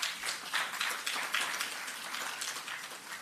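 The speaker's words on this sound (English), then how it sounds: "everybody, I wanted to give him a clap" Audience at a customs lecture and dialogue event clapping together in a hall, a steady, dense patter of hands that holds at an even level without pauses or voices on top.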